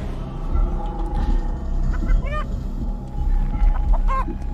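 A giant chicken in the Chicken Feet video game gives several loud, squawking clucks that rise and fall in short bursts over a busy game backdrop.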